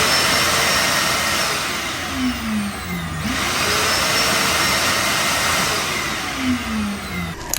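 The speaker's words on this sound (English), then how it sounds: "I can just shut the shop vac off and on whenever I want" A shop vacuum in a woodworking shop runs steadily as a loud, continuous whine and roar, switched remotely, filling the whole stretch without pause or voices.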